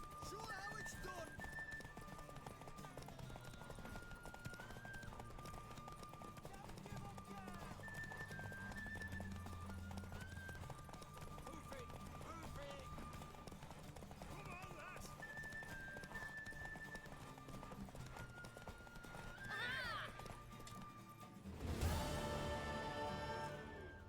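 A horse in The Witcher 3 video game gallops with a steady clip-clop of hooves for a long stretch, occasionally whinnying, while people talk over it and a louder neigh bursts out near the end.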